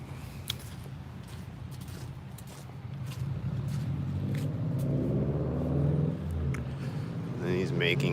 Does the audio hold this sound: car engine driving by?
yes